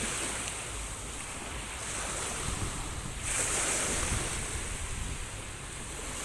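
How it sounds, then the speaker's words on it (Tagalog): Sea waves surging onto a beach under a steady broadband wash of surf with wind buffeting the microphone, a louder swell rolling in midway, no voices. "Maalon na po."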